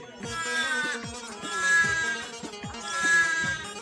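Newborn lambs, born in the coldest weather and kept indoors, bleat in three long wavering cries, close and fairly loud, each call rising and fading with brief pauses between.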